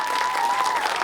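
Applause from a school quiz competition audience celebrating the winners, a steady dense burst of clapping, brief and even.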